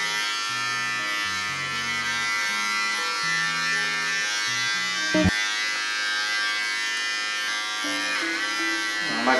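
Electric hair clipper buzzing through a West Highland terrier's fur, a close, steady motorized drone that shifts in pitch as the blades bog down and recover, with a couple of brief knocks, and no talk.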